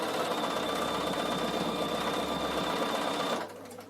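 A Bernina sewing machine runs a zigzag stitch in a steady, close mechanical whir that stops abruptly near the end.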